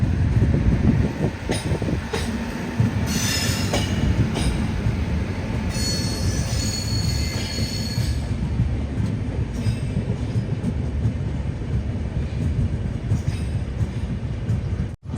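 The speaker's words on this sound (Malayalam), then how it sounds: "മംഗളൂരു ജംഗ്ഷൻ സൈഡിൽ നിന്ന് ഒരു ട്രെയിൻ വരുന്നുണ്ട്. Mumbai Lokmanya Tilak Thiruvananthapuram north super fast express." The Mumbai LTT–Thiruvananthapuram North Superfast Express passes close by, with a loud continuous rumble of coaches, rhythmic wheel clatter and high squealing of wheels on the rails throughout.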